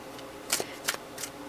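Tarot cards handled and shuffled, three quick, crisp papery flicks spaced about a third of a second apart, close but quiet against a faint background hush.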